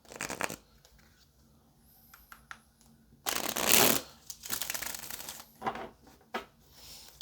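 A deck of tarot cards being shuffled in a few close, crisp riffling bursts, the loudest near the middle, with quiet pauses between them.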